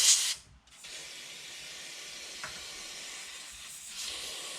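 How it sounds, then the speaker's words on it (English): A steady aerosol hiss of carburetor cleaner sprays continuously at close range onto a Kawasaki Mikuni carburetor from a John Deere mower, after a brief loud burst at the start, with no voices. "I'm just gonna start spraying this down, getting all the dirt off"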